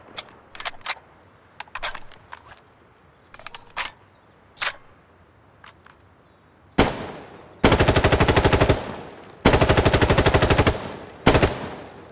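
Machine gun fire in the video game Insurgency: Sandstorm: scattered single shots and short bursts, then long rapid automatic strings with a brief pause between them, loud and close with nothing else heard.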